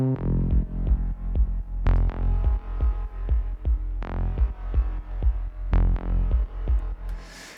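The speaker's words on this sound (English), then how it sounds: "So all the bass together sounds like this." Melodic house bass line built with Ableton stock plugins, a deep pulsing groove of punchy low notes and plucks in steady rhythm, loud and alone with no voices.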